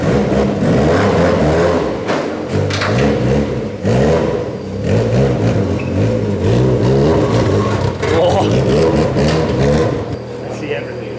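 A car's engine revving and pulling away nearby, with rising and falling engine pitch over clattering mechanical noise and steady rumble, while people talk over it.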